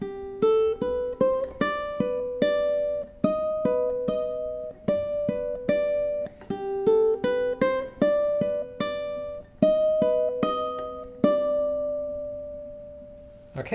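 A ukulele plays the second, higher theme of In the Hall of the Mountain King as a crisp run of plucked single notes in a steady, climbing, repeating pattern, heard clearly and close with no talking.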